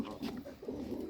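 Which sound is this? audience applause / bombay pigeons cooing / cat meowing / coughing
bombay pigeons cooing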